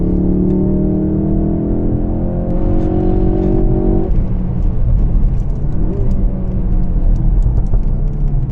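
A Ford Focus RS engine drones steadily from inside the car on the Nürburgring at Adenauer Forst, its pitch rising then dropping midway, with loud constant road and wind roar throughout.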